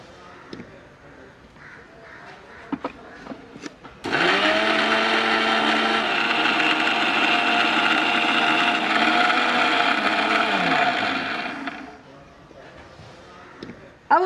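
A kitchen mixer grinder whirs loudly and steadily for about eight seconds, grinding coconut with garlic cloves, green chilli and a little water, then winds down, with faint clatter before and after.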